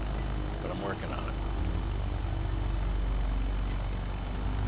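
Aircraft engine held at full power on a takeoff roll with flaps down in Microsoft Flight Simulator 2024, a steady loud propeller-style drone throughout, with someone talking over it.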